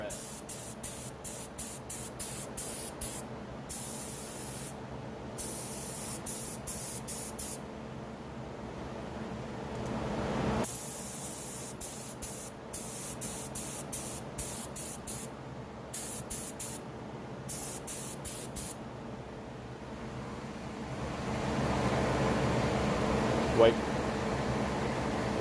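Aerosol spray paint hisses in repeated short bursts onto motorcycle foot pegs or floor boards, rapid pulsed sprays broken by pauses, then a longer steady hiss near the end.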